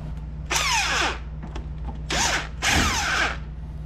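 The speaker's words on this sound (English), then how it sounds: "And now you can go ahead and back off the castle nut." Power tool backing off a castle nut on the front axle of a Kawasaki Brute Force 750 ATV, three loud whirring bursts with spin-up and wind-down, close by, no talk.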